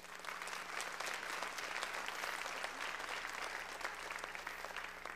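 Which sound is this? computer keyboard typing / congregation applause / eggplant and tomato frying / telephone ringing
congregation applause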